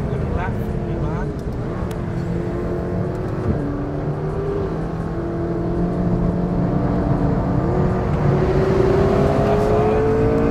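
A McLaren 650S supercar with ceramic brakes drives a mountain road in southern Spain, its engine droning and shifting pitch as it accelerates and eases off, steady and prominent, while someone talks over it throughout.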